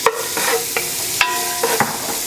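Onions and garlic sizzle in a pan, a steady close frying hiss broken by scraping stirs and little clinks of a utensil, with no talking.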